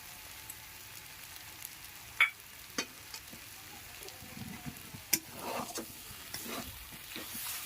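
Taro leaves cooking in a pan with ground cumin, giving a soft steady sizzle with scattered stirring scrapes and clicks of a spatula, quiet and close.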